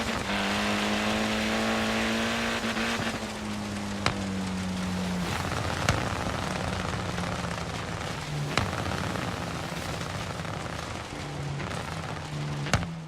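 Car engine in the Forza Horizon 3 racing game, a sustained loud drone with shifting pitch as it revs, punctuated by several sharp backfire pops spread through the run, with no talking.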